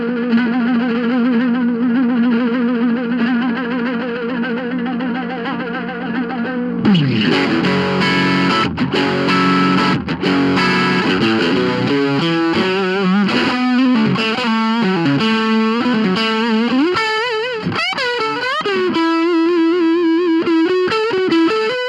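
Electric guitar played through an amp with gain, a Stratocaster recorded with a single 57 mic and panned: a sustained distorted tone, then a busy run of bending, sliding lead notes, loud and up front with no talking.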